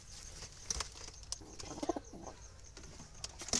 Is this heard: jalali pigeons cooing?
yes